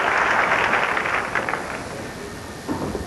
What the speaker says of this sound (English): And the crowd applauding him for the attempt.